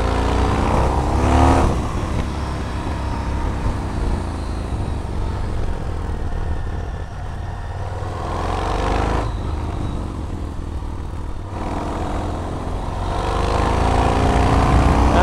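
A 2005 Yamaha MT-01 motorcycle's big V-twin engine accelerating on the road, a loud continuous rumbling drone with rising and falling surges and wind noise, heard from the rider's position without talk.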